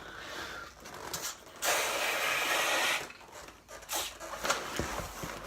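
A grade 260 twisting balloon being pumped up with a hand pump, breathy hissing strokes in short bursts, one long push in the middle, close and fairly quiet.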